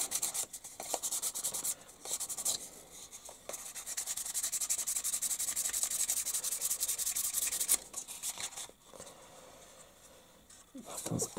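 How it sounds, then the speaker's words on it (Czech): Fine sandpaper rubbed across a plastic part of a 1:48 scale Fiat CR-32 model kit, a close, steady scratchy rasp in long strokes with a few brief pauses and a softer stretch near the end. "Spodek taky ještě bych mohl trošku víc obrousit tím jemnějším smirglem."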